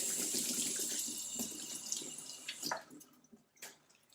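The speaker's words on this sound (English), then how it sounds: "I'm just going to go and wash my hands." Water runs steadily from a kitchen tap as hands are washed underneath, a continuous rushing splash with brief louder splashes and drips toward the end, heard up close.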